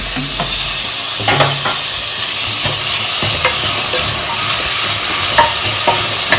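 Onions and tomatoes sizzle steadily in a pan for a goat-blood and mutton gravy, with repeated scraping stirs of a spatula clicking against the metal at close range, no voices.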